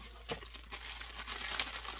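Plastic packaging around a bare root peony packed in peat moss is opened with crisp crinkling and crumpling that comes in close, irregular bursts throughout, with no voices.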